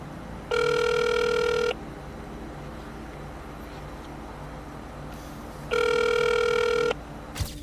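A telephone rings twice with long pauses between, each ring a steady electronic burst of about a second over faint background hiss, going unanswered.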